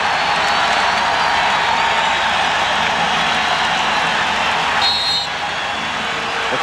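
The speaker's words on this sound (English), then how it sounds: "The crowd cheering the aggressiveness of the Los Angeles Lakers" Crowd noise in a basketball arena during Game 5 of the 1991 NBA Finals between the Bulls and the Lakers, a loud, steady roar of cheering held at one level throughout, dipping slightly near the end.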